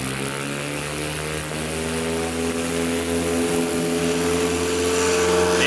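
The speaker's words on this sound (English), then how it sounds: "Looks like a 61-foot takeoff, 5 feet shorter than his last one." A STOL propeller airplane at a short takeoff competition roars steadily and loudly from close by, its prop drone building slightly as it accelerates down the strip.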